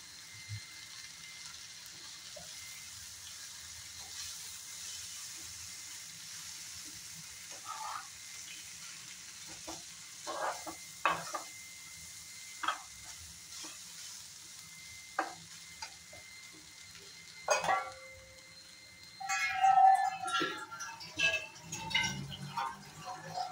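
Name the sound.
Maggi noodles cooking and being stirred in a pan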